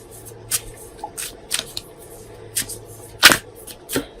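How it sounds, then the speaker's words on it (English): Tarot cards are shuffled in quick, crisp riffling bursts, about six of them, with one louder flurry near the end; close and clear. "Let me shuffle these cards"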